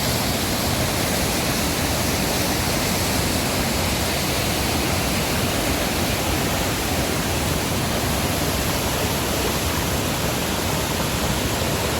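Hua Chang waterfall in forest terrain, Wiang Nuea subdistrict, as a steady broadband roar of falling water that runs unbroken and fairly loud throughout, with no voices.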